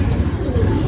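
A pigeon gives a brief, low, throaty coo, close by, under a muffled rumbling background.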